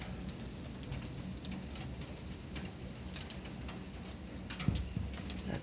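Hailstorm during a violent thunderstorm pelting a single-glazed window, a dense steady patter of impacts with a few sharper, louder hits near the end.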